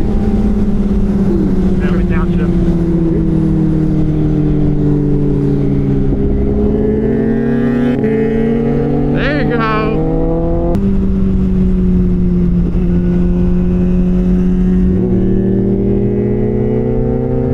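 Kawasaki ZX6R sport motorcycle on a test ride, its engine revving up through the gears in loud, rising sweeps with brief dips at shifts, steady wind noise throughout and faint talk underneath.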